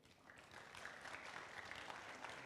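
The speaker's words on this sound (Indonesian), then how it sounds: "kasih tepuk tangan dong" Steady applause from a crowd at a church youth revival night, a dense, even patter of clapping that holds for the whole stretch at a fairly soft, distant level.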